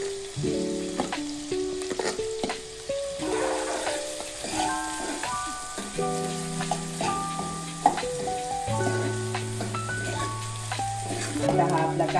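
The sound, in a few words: onion frying in a pan for pav bhaji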